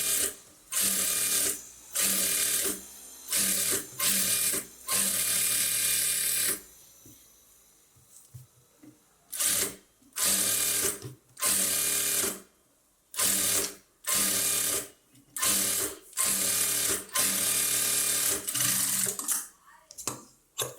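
Sewing machine stitching a blouse lining in repeated short bursts, each a second or two of loud, fast mechanical whirring separated by brief pauses, with a longer quiet gap near the middle.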